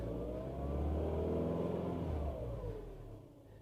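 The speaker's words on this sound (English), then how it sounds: "when you start it, you give it a bit of a rev" A Mini's engine is revved just after starting; it has an engine management light on following a timing chain replacement. One loud, close rev climbs, holds and then drops back toward idle, with no talking.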